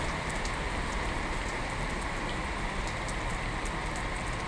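Rain falls in a steady, dense hiss that covers the whole stretch with fine drops pattering on surfaces, even and unbroken, with no voices.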